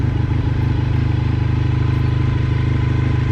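A 1990 Honda VFR400R NC30 motorcycle engine idles after a hard ride, a steady, close, even low rumble with a fast regular pulse and no talk over it.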